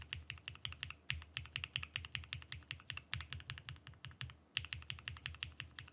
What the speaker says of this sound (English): Definitely way more clack than I was expecting though.